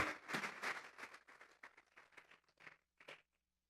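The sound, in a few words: congregation clapping as an offering of applause to God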